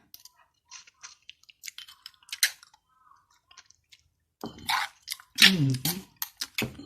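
Chewing on a sour mango salad, with soft crunchy bites and wet mouth sounds coming in small bursts, close and fairly quiet, followed by a louder stretch where someone talks.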